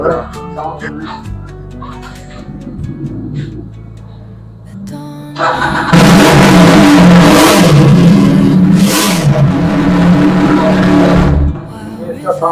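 A 2025-model 400cc Bajaj motorcycle engine starts up and revs loudly and steadily for several seconds after quieter background sounds, then drops off near the end.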